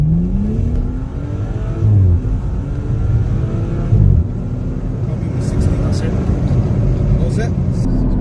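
A BMW M135i F20 hatchback engine revs hard through the gears on an acceleration run, loud and close, rising in pitch with brief dips at each quick short-shift, heard from inside the car.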